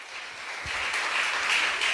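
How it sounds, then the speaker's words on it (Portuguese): A church congregation at a Sunday evening service claps for Jesus, a soft, even patter of many hands that swells slightly and holds steady. "dê uma salva de palmas para Jesus"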